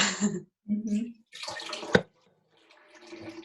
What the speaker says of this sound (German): Das kannst du auch mit frischem Wasser einfach wieder ins Glas laufen lassen, weil das Wasser läuft ja wieder raus.